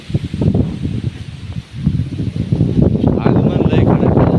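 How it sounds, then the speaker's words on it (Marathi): Strong wind gusts sweep through a mountain valley in Maharashtra as the monsoon arrives, setting maize plants and trees swaying; a loud, close, rustling roar that surges and dips, with a brief lull before building again. "पण ह्या डोंगराच्या दऱ्या खोऱ्यामध्ये ह्या वाऱ्याचा वेग तिथपर्यंत जातोय"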